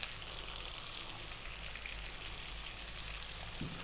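Onions and cumin seeds with salt frying in a hot pan for a restaurant-style lamb curry, a steady, faint crackling sizzle that continues evenly throughout.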